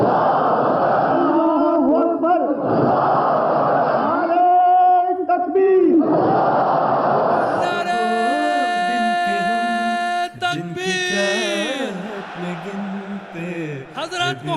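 A large crowd at an annual Ahmadiyya gathering in Germany roars a chanted Allahu Akbar slogan, loud massed voices rising in repeated surges, alternating with a leader's amplified call and later musical chanting.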